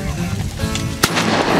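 A single sharp shotgun blast cracks out mid-clip on a duck hunt for canvasbacks at Lake Seminole, set against steady outdoor wind and rumble.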